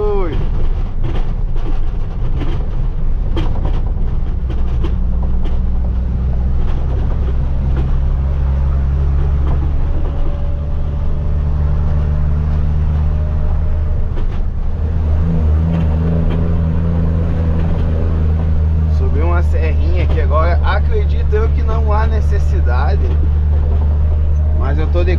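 Low rumbling truck engine droning steadily as the vehicle drives along a country road, holding a low gear with some revving shifts, with someone talking over it throughout.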